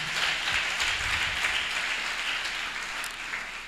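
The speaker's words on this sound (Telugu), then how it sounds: "చప్పట్లు కొడదామా?" Audience at a Christian church message clapping together, a dense sustained wash of applause from a large crowd that holds steady for several seconds and then slowly tapers.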